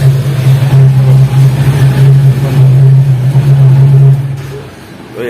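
Car engine fitted with an IXL underbelly silencer exhaust runs close by with a steady, loud, deep drone and mild revving for about four seconds, then drops away.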